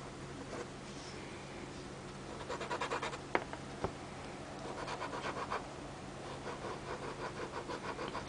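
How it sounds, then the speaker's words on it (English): Close, faint scratching of a sharp quill nib dragged across paper laden with wet ink, coming in short repeated strokes with a couple of small taps. "When I run it across the paper, especially when it's really inky, it kind of digs on the paper."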